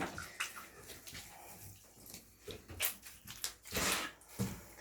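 Wet fur on a dog is squeezed by hand during a bath at home, giving a series of soft squelching drips and splashes in irregular bursts, close by and fairly quiet.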